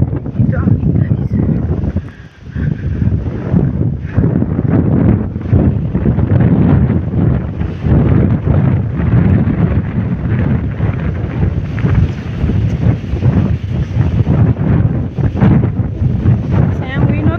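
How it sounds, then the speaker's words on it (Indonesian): Strong wind buffets the microphone outdoors on a night walk to a bus terminal, a loud, continuous roaring rumble that barely lets up for the whole stretch. "But this wind is too much big."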